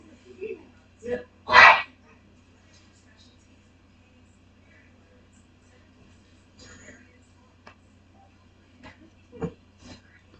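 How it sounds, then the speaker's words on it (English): A dog barks a few scattered times, short sharp yaps spread across a mostly quiet stretch, with faint talk and light background noise between. "And there goes the dog again."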